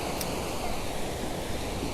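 Ocean waves wash steadily onto Summerland Beach, a broad, even hiss of surf with no distinct breaks and no voices.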